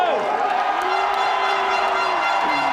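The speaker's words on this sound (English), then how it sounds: "And the stands do erupt as Belgium get on the score sheet." Spectators in the stands at a European Touch Championships match in Vichy, France, roar as Belgium scores. The sustained crowd noise is loud and close, with wavering whistle-like tones riding on top.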